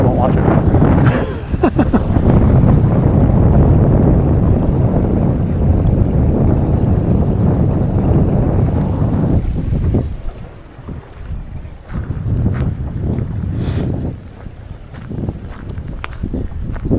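Heavy wind near Mt. Fuji buffets the microphone in a loud continuous roar that eases and gusts again near the end, with no one speaking.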